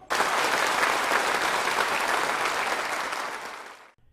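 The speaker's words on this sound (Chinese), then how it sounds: "指挥大厅响起热烈掌声" Warm applause fills a launch control hall, a dense burst of many hands clapping that starts abruptly, holds steady and loud for several seconds, then fades out.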